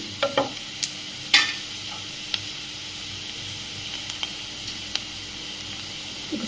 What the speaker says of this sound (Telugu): పచ్చివాసన పోయే వరకు ఫ్రై చేద్దాము అల్లం వెల్లుల్లి